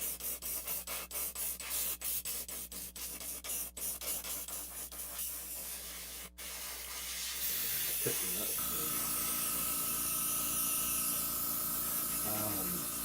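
An airbrush hisses in short, evenly spaced bursts as paint goes onto a model, then gives way to a longer continuous spray with a steady airy hiss, close and fairly loud.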